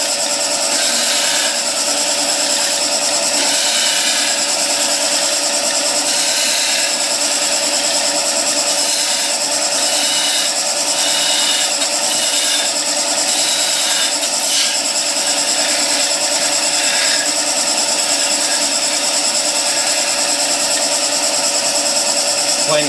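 A wood lathe turns steadily while a planing cut is made with the long point of the tool up, giving a continuous, close, loud shaving hiss with faint rhythmic ticks and no clear talking.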